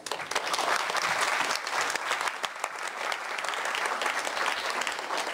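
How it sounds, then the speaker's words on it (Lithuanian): An audience at an evening event in Kaunas claps steadily to welcome a speaker named Robertas, a full sustained round of applause that stays loud and even for several seconds with nothing else over it. "Man bus sunku atidirbti šitos aplodismentus."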